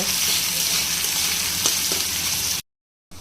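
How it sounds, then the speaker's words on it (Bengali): Chopped garlic, onion and dried chillies sizzle in hot oil for a red amaranth leaf stir-fry, giving a loud, steady, close frying hiss that cuts off abruptly near the end. "এখন এগুলো হালকা করে ভেজে নিব।"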